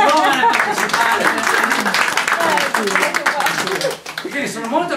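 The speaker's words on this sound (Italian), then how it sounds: "Un applauso alla giovane principale." Loud applause from an audience at a video presentation, many hands clapping continuously while voices and cheering mix in over it, dipping briefly near the end.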